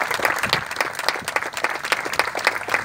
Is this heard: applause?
yes